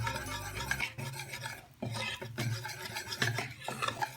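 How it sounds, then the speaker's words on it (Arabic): Strawberry cake batter is whisked in a bowl in one direction, giving rhythmic wet stirring strokes with soft scraping against the bowl, close and unaccompanied by talk. "ما بلغش في الخفق لحد ما الدقيق يختفي عندي في اتجاه واحد"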